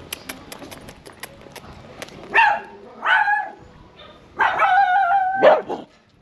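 A leashed dog on a street in a Colombian hometown barks loudly and close by, four sharp barks with the last two running together, after a stretch of rhythmic clopping footsteps.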